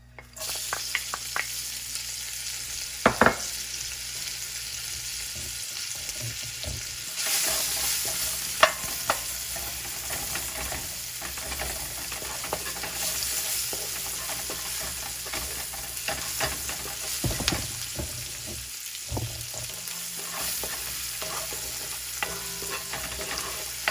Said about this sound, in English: we're going to sweat some onions as well